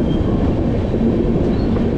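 The 13021 Mithila Express from Howrah, nearing Raxaul station, fills the carriage with a loud, steady rail rumble and a dense wheel roar throughout, with no talking.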